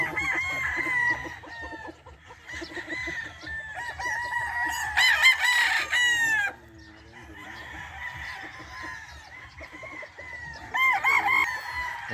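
Several game farm roosters crowing in turn, loud and close, with overlapping drawn-out cock-a-doodle-doos and some clucking from the flock, with no people talking.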